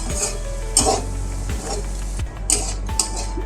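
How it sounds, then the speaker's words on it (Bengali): Slices of pointed gourd fry in a pan and are stirred over and over, each pass a sharp scrape and clink of utensil on metal over a steady low sizzle, close and moderately loud. "এইভাবে আমি 5-10 মিনিট ভাজবো"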